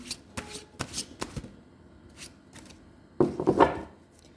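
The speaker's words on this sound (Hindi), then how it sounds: "last shuffle" Tarot cards being shuffled by hand during a Libra horoscope reading: a run of crisp riffling bursts, some quick and separate, closing in a denser, louder flurry near the end. Close and fairly quiet, with no talking.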